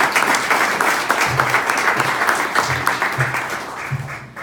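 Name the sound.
audience applause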